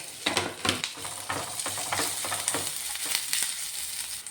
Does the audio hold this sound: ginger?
yes